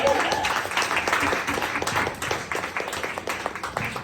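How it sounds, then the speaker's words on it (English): Enthusiastic clapping from a coffee-house comedy audience after comedian Diana B's set, close and continuous, fading slightly toward the end. "keep that clap going for Diana B, everybody"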